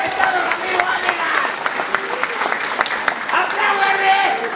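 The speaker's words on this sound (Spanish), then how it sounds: "¡Aplausos, R!" Crowd applause at a PRI political rally in Coyuca, Guerrero, Mexico, steady and dense throughout with a voice speaking over it.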